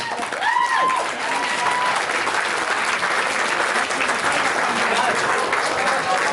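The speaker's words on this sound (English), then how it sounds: "Let's give them a huge round of applause, ladies and gents." Guests at a wedding reception burst into loud, sustained applause during the speeches, with cheering voices and a whoop rising briefly at the start before the clapping carries on evenly.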